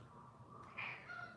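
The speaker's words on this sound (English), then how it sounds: "you hear my kitty cat jealous" A pet cat gives a single drawn-out meow close by, faint and brief against a quiet indoor background with low hum.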